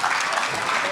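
A brief, dense burst of audience applause, loud and close, lasting under a second with no talk over it.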